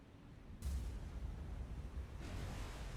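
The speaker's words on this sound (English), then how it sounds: "Got another explosion on the merchant ship." A muffled explosion aboard a merchant ship in the naval war game War On The Sea, a low rumbling boom that swells and holds as a sustained roar, followed by a second swell near the end, with no talk.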